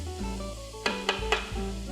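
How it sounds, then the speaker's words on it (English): A hot pan on full heat sizzles steadily while Thai peanut tortellini cooks, with three sharp utensil clinks against the pan partway through. "you can really hear that pan sizzling"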